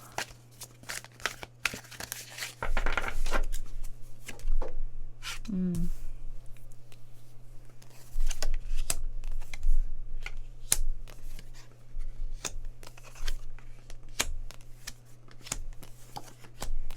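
Tarot cards being shuffled in quick riffling bursts, close and crisp, repeating several times with a steady low hum underneath.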